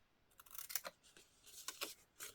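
Scissors snip through paper while trimming a folded paper Christmas tree craft, a few quiet crisp cuts in two short bursts, close and alone without talk.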